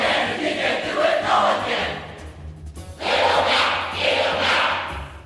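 A roaring crowd chant from Super Smash Bros., a rhythmic, rising and falling cheer in two loud waves split by a short lull, with thuds beneath.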